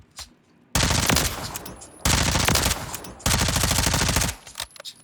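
Gunfire from a weapon with very little recoil in Call of Duty: Modern Warfare Remastered, heard as three long, loud automatic bursts separated by brief pauses.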